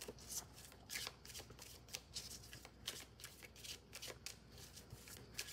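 Tarot cards being shuffled by hand, a steady run of soft papery riffles and slaps close by, repeating in quick bursts with no talking.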